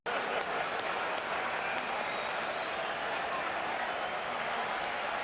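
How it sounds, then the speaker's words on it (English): A baseball crowd at a 2003 playoff game between the Braves and Cubs cheers and applauds on its feet, a dense, continuous roar of clapping and voices heard at a distance. "Crowd on its feet."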